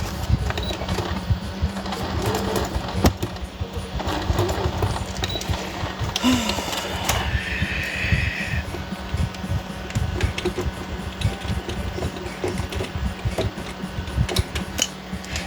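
A sewing machine runs steadily while stitching a handmade pocket folio, a continuous mechanical rattle of the needle at close range, with no voices over it.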